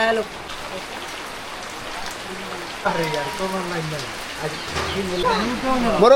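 Steady rain patters throughout a village wedding while people talk over it, with the rain holding a constant hiss beneath the voices.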